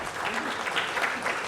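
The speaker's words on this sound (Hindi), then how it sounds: "यदि आपकी तालियां शामिल हो जाएं तो क्या कहने।" Audience applause at a Hindu religious gathering honouring a swami, a brief dense burst of clapping from a crowd at moderate distance, steady throughout.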